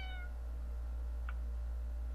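A cat in the video game Fausts Alptraum gives a single short meow, clear but modest in level, over a steady low droning ambience with no speech.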